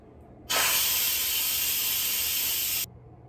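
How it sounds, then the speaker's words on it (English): A loud, steady burst of steam hisses from an Instant Pot pressure cooker during quick release for about two seconds, then cuts off abruptly into quiet. "so let's quick release the steam."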